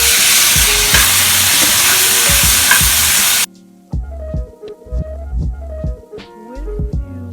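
Tomatoes tossed into a pan for veg momos filling, frying and being stirred. A loud hissing sizzle dominates the first half. It gives way to sharp scraping and clanking stirs against the pan with quieter frying beneath, and no one speaks.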